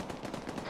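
Rapid automatic gunfire from a shooter in the video game ArmA 3, a short burst of muffled, evenly spaced shots that sound distant and blur together under steady background noise.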